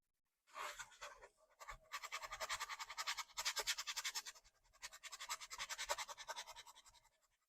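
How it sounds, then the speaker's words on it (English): A dry erase marker scrubs back and forth to fill in a laser engraving on a softball, producing close, rapid rhythmic scratching in several bursts with short pauses between them. "I'm going to use the same dry erase marker. I'll fill this in."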